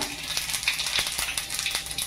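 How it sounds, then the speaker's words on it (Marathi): Mustard seeds and cumin hit hot oil left over from frying peanuts, tempering for a Kolhapur-style sushila breakfast. A close, steady crackling sizzle with scattered sharp pops runs throughout. "त्याच तेलात आपल्याला ही फोडणी द्यायची। हे राई टाकली, जिरा"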